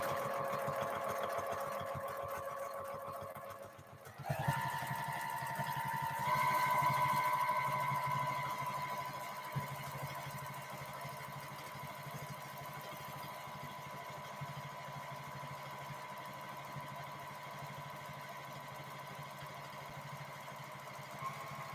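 Home sewing machine stitching feather quilting designs, a continuous mechanical whir with a steady rapid needle rhythm that shifts pitch as speed changes, loud and close, with no talking.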